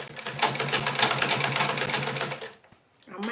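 A sewing machine stitches fabric in a fast, steady motorized chatter, then stops, leaving a brief near-silence before another sound begins.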